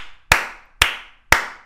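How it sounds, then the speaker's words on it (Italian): Three slow, sharp, evenly spaced hand claps from a single person, loud and close with a short decay after each, given as sarcastic applause while playing the horror video game Little Hope. "Un applauso"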